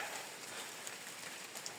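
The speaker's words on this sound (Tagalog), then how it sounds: "Puro ulan." Steady rain pours during a mountain hike on Mt. Talinis, a dense continuous hiss of drops filling the whole stretch, close and even with no voices.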